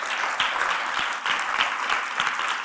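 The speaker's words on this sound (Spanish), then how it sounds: "Démosle un aplauso fuerte al Señor" A church congregation applauds loudly and continuously, a dense close wash of many hands clapping with no other sounds over it.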